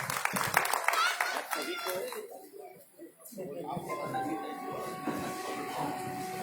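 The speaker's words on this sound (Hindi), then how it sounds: "जोरदार तालियां दीपक भाई के लिए।" A community Holi festival audience gives a short, scattered burst of clapping for the singer Deepak, strongest in the first two seconds and then fading, followed by sustained tonal sounds and a voice over a microphone.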